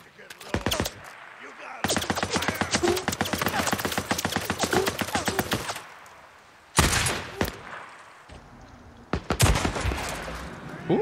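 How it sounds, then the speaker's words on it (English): Gunfire from Days Gone during a zombie outbreak, with rapid repeated shots in long bursts broken by short pauses and a few separate heavy reports. It is close and loud, and faint talk mixes in. "that's two sniper shots to take out that guy"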